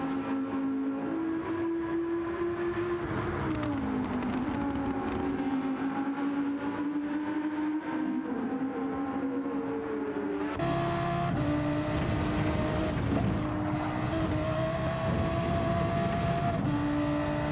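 Audi GT race car circling Laguna Seca in a racing game, its engine roaring loud and continuous, pitch climbing and falling through gear shifts, with a sharp upward jump partway through.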